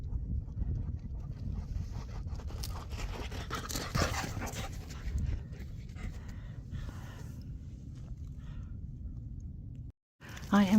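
Dogs pant and move closer across sand dunes, a steady close breathy rustle under wind, with a person talking briefly near the end.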